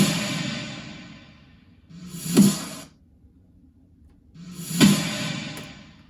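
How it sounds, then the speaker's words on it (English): Reverse snares in a future bass production in Logic Pro X swell up over about two seconds into a sharp snare hit, repeated twice, with the hit ringing briefly before a quiet gap. Loud, close and alone. "for every 4 of those reverse snares, 2 of them are accompanied by this snare"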